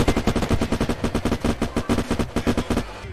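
Gunfire in the survival game Unturned: a fast, even automatic stream of about two dozen close, punchy shots that stops just before the end, with no talk.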